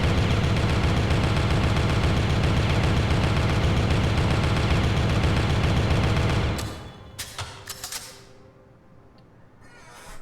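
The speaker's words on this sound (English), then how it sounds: "Look at that, he has a machine gun" Sustained rapid machine gun fire roars loudly and continuously in the video game Killer7, then cuts off abruptly, leaving a few sharp clanks and impacts before near silence.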